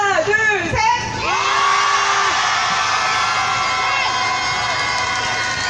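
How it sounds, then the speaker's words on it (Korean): Protest crowd at a weekly Wednesday rally outside the Japanese embassy shouting together in one loud collective cry, rising into sustained cheering and whooping that continues steadily to the end. "큰 목소리로 한번 일본 대사관을 향해서 소리 질러 보면 좋겠습니다."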